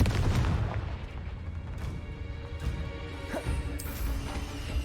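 Spell combat in the video game Hogwarts Legacy, with the fiery Confringo blast landing amid loud crashing impacts and booming hits, a dense stretch of game battle noise with a sharp smash near the middle.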